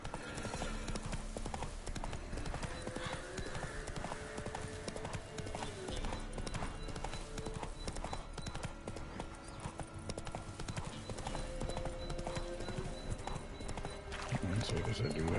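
Horse hooves clip-clop steadily in The Witcher: Wild Hunt as the horse is ridden along, a rhythmic trot sitting under game music and ambient sound, with someone talking over it.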